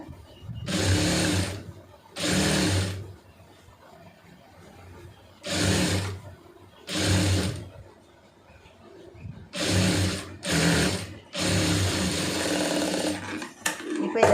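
A sewing machine stitches a fabric sleeve flat and free of puckers, running in several loud bursts of steady whirring separated by short pauses, with no talking.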